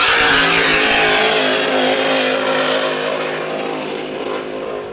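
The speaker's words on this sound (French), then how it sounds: "Voilà, plein gaz pour Langevin" A race car at full throttle on a Grand Prix time-trial circuit in Valleyfield, its engine roaring loud and steady throughout, then fading slightly toward the end.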